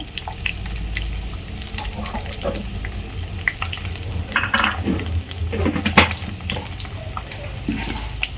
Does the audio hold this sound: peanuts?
yes